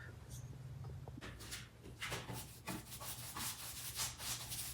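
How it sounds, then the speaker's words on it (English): A painted nightstand gets a light hand-sanding with 220 grit sandpaper between coats, soft rhythmic scratchy strokes in quick bursts, close and quiet, with a low steady hum underneath. "It's best to sand in between coats. Just give it a light sand of 200, 220 grit."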